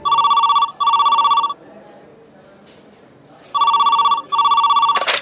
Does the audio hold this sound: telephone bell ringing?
yes